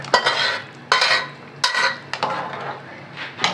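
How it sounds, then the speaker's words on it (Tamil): Mashed dal poured into a pot of small-onion sambar and stirred, giving repeated wet scraping strokes of a spoon against the metal pot, close and moderately loud, in a steady stirring rhythm. "இப்போ ஊற்றிடலாம், குழம்புல ஊற்றிடலாம்"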